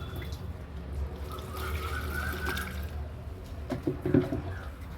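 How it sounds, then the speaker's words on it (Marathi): Soaked onion peel water strained through a sieve, a steady trickle and splash of liquid close by with a few brief drips and clinks toward the end, no voices. "आता सकाळ झालेली आहे तर मी हे गाळून घेते मस्त असं गाळून घेऊन"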